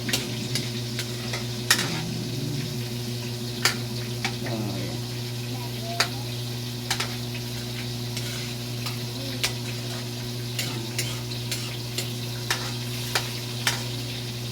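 Onions sizzling in a pan as they are stirred, a steady close crackle over a low hum, with sharp clicks of a utensil against the pan every second or so.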